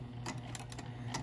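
A sewing machine stitches a seam through a vinyl pouch lining with zipper tape, giving a short close burst of rapid mechanical needle clatter over a steady motor hum, with no talk.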